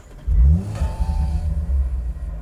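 An Audi RS 5 Sportback's 2.9-litre twin-turbo V6 starts in RS mode with a loud burst of revs, then settles into a deep, steady idle rumble heard close up from the front seats.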